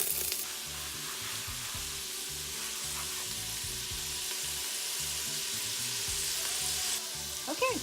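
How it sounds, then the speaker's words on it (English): Bacon sizzles and renders steadily in a hot pan, a dense continuous crackle with small pops throughout and occasional utensil knocks, no talking. "the bacon is in the pan. It's rendering nicely."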